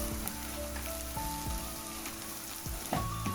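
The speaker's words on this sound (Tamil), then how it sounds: "இந்த தூளை கொஞ்சம் நாங்கள் இதுக்குள்ள அப்படியே இந்த வெங்காயத்தோட கிளறி விடுவோம்." Spice powder stirred into onions frying in a pan for eggplant chickpea curry, a steady close crackling sizzle with scraping stirs and a few spoon knocks, no talk.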